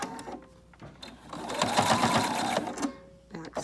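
A sewing machine back stitches the seam of a DIY fabric dust mask, its rapid needle chatter running steadily for a couple of seconds close to the mic, with brief voices before and after.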